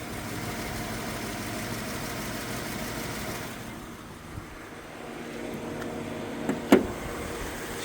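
A Lexus LS 430 engine idles quietly and smoothly nearby, a soft, steady hum with a brief sharp click near the end.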